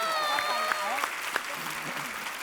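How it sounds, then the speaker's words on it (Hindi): A studio audience at a Hindi comedy show claps steadily and loudly, with voices talking over the applause. "जोरदार ताली हो जाए"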